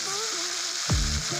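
Drumsticks in a pan being mixed with salt and turmeric, a close steady sizzle with a brief scraping stir and a low thud near the end, no voices.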